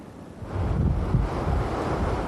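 Strong wind gusts from Hurricane Floyd batter the microphone, a dense low roaring rush that swells after a brief lull and stays loud and turbulent.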